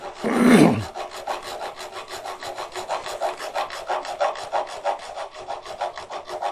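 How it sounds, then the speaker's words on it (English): A rasp scrapes a spinning wooden goblet spindle on a lathe, with a heavier opening stroke followed by a rapid, even stream of rhythmic rasping strokes at close range. "when you get down close to the end of the spindle, you want to be careful not to get the rasp up against the"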